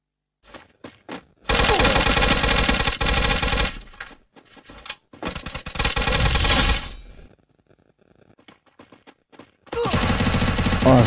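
Gunfire in the Free Fire battle royale mobile game: loud sustained automatic bursts from around 1.5 to 4 s and 5 to 7 s, a few scattered single shots between them, and another heavy burst at the end.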